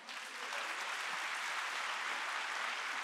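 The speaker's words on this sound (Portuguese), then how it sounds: "Alguém pode aplaudir Jesus por isso?" A church congregation applauds in a continuous, even wash of clapping, building quickly and holding steady throughout.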